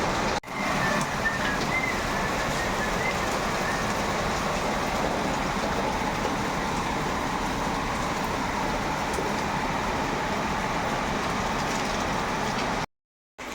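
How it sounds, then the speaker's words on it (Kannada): A dense, steady roar of downpour fills the scene without a break, loud and continuous, and then cuts out abruptly near the end. "ಮಳೆ ಅಂತೂ ಸಿಕ್ಕಾಪಟ್ಟೆ ಸಖತ್ತಾಗಿ ಬರ್ತಾ ಇದೆ"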